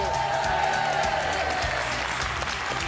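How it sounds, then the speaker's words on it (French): Studio audience applause at a French TV game show on TF1, a dense, steady wash of clapping that stays loud and even for about three seconds with no voices over it. "je voudrais quand même que l'on applaudisse super fort Carnotti aujourd'hui."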